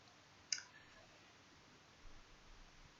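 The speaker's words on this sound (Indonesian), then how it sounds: "menggunakan mouse, kliknya di drag ke kanan" A computer mouse gives a single sharp click, close and quiet, followed by near silence with faint low background noise.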